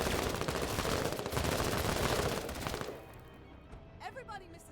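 Rapid, loud gunfire bursts from a weapon in a video game roar for nearly three seconds. They then fade into quieter rumbling with a few whistling, chirping sounds at the end.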